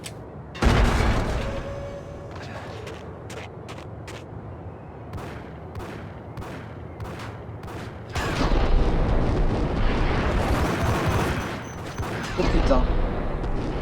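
Gunfire in the video game Max Payne: a burst of booming shots followed by rapid sharp reports and a dense roar of continuous fire, loud and close, with a man exclaiming briefly.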